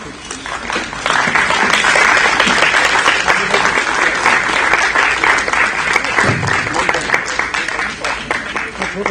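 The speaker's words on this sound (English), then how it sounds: "let's have a huge round of applause, ladies and gentlemen, for the unveiling of the draft of National Strategy for Film Tourism" A large audience at a G20 tourism working group meeting applauds loudly and steadily for the on-stage unveiling of the draft National Strategy for Film Tourism, with dense clapping sustained throughout and a brief low rumble near the middle.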